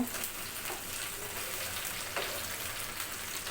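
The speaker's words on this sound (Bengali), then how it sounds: "মাছ ভাজা এটা হচ্ছে তেলাপিয়া মাছ এটা ভাজি চলছে" Tilapia fish frying in oil in a pan on a low gas flame in a home kitchen, a soft continuous sizzle with fine crackling, fairly quiet and steady.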